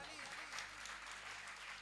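Crowd at a Jain Siddhachakra Vidhan gathering in Shakarpur, Delhi, clapping during Holi festivities, a steady dense wash of applause continuing throughout at moderate distance.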